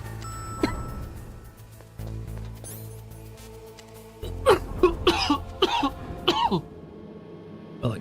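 Several throaty coughs and throat-clearing near the end of a cold burst out in a cluster near the microphone, over quiet video-game background sounds.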